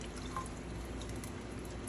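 Water pours into a pot on a stovetop, a soft continuous trickling and splashing heard faintly and close by.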